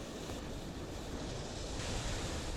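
Waves wash steadily onto a beach in South Devon, a constant broad roar of surf mixed with wind buffeting the microphone, with no distinct breaks.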